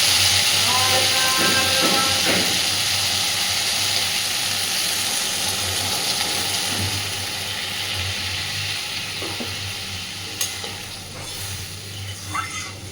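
Water poured into a hot pan of fried vegetarian curry bursts into a loud hissing sizzle that slowly settles into a softer bubbling steam, with a few small clinks toward the end.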